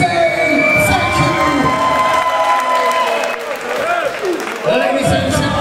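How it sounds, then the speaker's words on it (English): A loud crowd at a match between Thomas Hallett and Harry Collitor cheers, whoops and applauds without pause, a dense roar of shouting voices with high yells rising above the clapping. "the noise from the crowd was insane"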